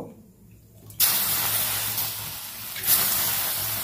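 Water poured onto hot semolina fried light red for halwa, bursting into a loud, sudden hiss after a quiet moment, staying strong and steady with a second surge of spitting near the end.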